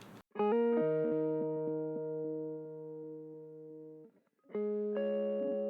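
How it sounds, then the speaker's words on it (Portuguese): An electric guitar runs through a Guitar Rig octaver, a thick doubled tone with a slightly glitchy digital edge. Several picked notes ring out, one sustaining with a faint pulsing flutter, then a pause before a couple more notes sound, close and alone. "Tem até esse bug meio digital do oitavador clássico do Guitar Rig."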